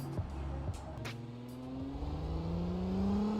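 A VW Golf R32 engine in BeamNG revs up with a rising tone that climbs steadily, with a few sharp pops early on, heard close and alone.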